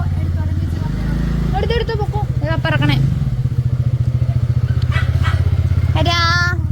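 A motorcycle revs and pulls away nearby, its engine pulsing loudly and rising in pitch, while people chatter and call out goodbyes over it.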